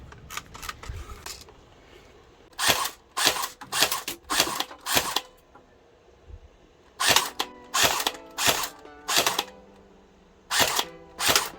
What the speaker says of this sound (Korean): 자, 이제 사격을 해보겠습니다. 먼저 단발입니다.